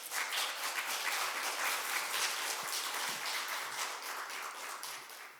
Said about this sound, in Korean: 목사님 나오실 때 박수로 환영해 주시기 바랍니다